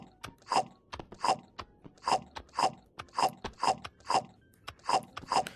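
Crunchy chip snack eaten in the VR game Job Simulator, heard as a steady run of about eight loud, close crunching bites at an even pace with nothing else around them.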